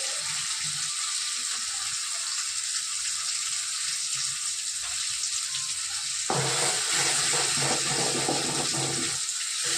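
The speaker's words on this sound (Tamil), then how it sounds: "முட்டையை உடச்சி ஊற்றும் போது கொஞ்சம் ஹையில் வச்சுக்கோங்க, அப்போ தான் சீக்கிரம் அது பொரியும்." Egg cracked into a pan on high heat, a steady loud sizzle throughout that grows harsher and more crackling partway through, no talking.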